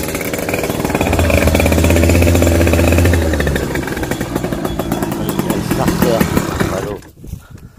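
Motorcycle engine running on choke, a loud close rattling idle with a fast pulsing beat that later falters and cuts out near the end, as someone talks over it.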